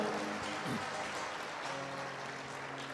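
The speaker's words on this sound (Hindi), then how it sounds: "ताली बजाओ परमेश्वर के लिए जोर से।" Congregation clapping for God during a church service, a faint, dense wash of applause lasting a few seconds, with murmured voices underneath.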